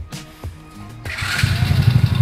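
A Honda mini bike engine, rebuilt with all new internals, starts with a few short cranking bursts, then catches and settles into a loud, steady, slightly uneven idle close by.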